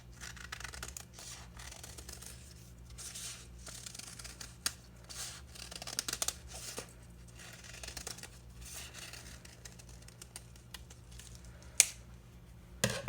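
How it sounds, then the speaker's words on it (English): Quiet, repeated snipping of scissors cutting an Easter egg shape from paper, short crisp cuts in irregular bursts with faint rustling, close by and without talk. "take your scissors and you are going to cut out an Easter egg"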